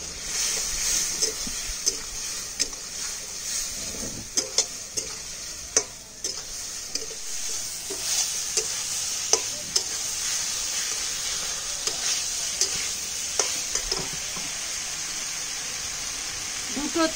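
Sojne data chorchori, drumstick stems with a little sugar and slit green chillies, is sautéed in a pan, giving a steady close sizzle broken by regular clinks and scrapes of a stirring spoon, with a voice talking intermittently.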